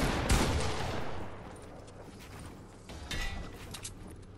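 Gunfire in Fortnite, a burst of shots near the start followed by scattered quieter shots and a few later pops, with a busy game background.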